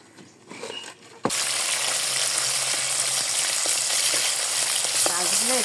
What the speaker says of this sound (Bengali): মাছটা নুন হলুদ দিয়ে মেখে রেখেছি হালকা করে ভাজি করে নেবো একটু